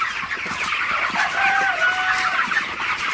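Many broiler chickens cluck and chatter together indoors in a continuous, busy flock murmur at moderate loudness.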